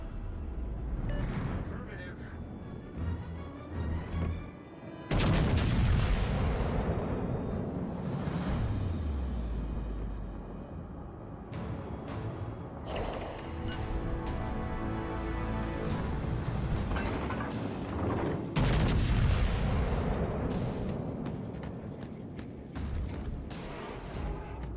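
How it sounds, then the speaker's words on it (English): Heavy naval gunfire from warships in World of Warships Legends, with the Kansas in play, booms out in several loud salvos whose rumble decays over a constant roar of sea and wind. "Concentrate fire on the enemy warship."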